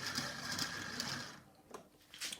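A Hornby Dublo model locomotive mechanism runs with a steady mechanical whir, its motor hum briefly dropping away before resuming, close and moderately quiet with no talk.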